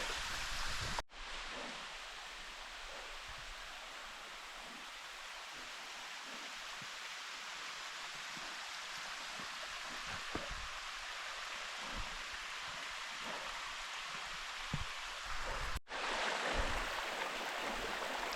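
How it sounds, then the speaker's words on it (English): Water pours down slippery cascades on a forest tributary stream at Mt Mee, a faint, steady rushing wash heard alone with occasional small knocks. "2 slippery cascades here."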